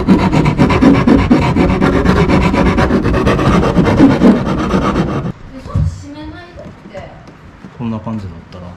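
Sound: filing or sanding a kayak rigging part with an abrasive

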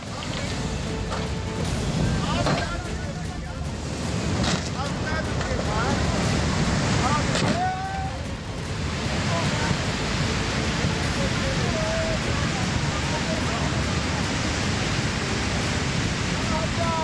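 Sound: rushing floodwater from heavy rain in Kullu

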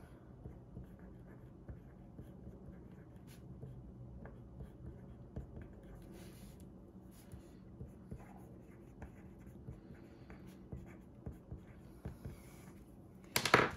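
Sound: writing by hand in a planner

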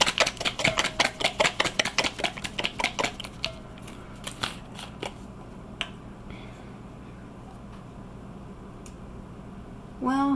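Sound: shaking a bottle of colored cocoa butter

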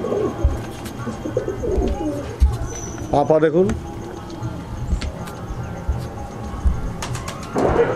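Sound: large paper pigeons cooing

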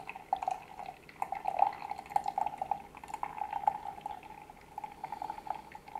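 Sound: pouring aged Yiwu Pu'er tea liquor

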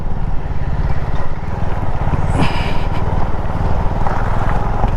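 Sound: vehicles driving on broken road

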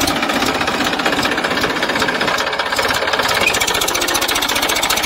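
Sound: Massey Ferguson 241 tractor engine climbing a slope

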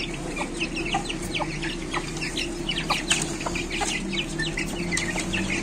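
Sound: chickens clucking

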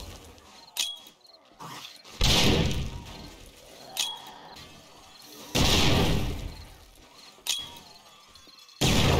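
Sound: grenade explosions in 7 Days to Die video game

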